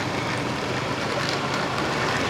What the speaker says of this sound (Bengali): আজকে আমাদের খেলার মাঝখানে বৃষ্টি, মানে একদম বৃষ্টির মধ্যে খেলাটা হয়েছে